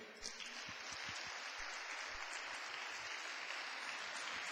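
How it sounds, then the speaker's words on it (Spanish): A church congregation at a Sunday service applauds in a dense, steady wash of clapping that holds at an even level throughout, with no voices over it. "aplauda al Señor porque esto viene"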